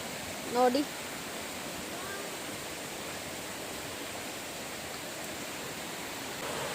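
Floodwater rushing fast through a swollen stream near Mangalore, a steady broadband roar that holds evenly throughout, with a brief voice near the start.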